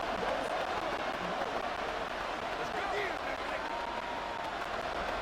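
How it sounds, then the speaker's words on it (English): A Madden 24 stadium crowd roars in a steady, dense wash of cheering and noise through a simulated Browns vs Broncos game, with a commentator talking over it. "this crowd is making an impact right now"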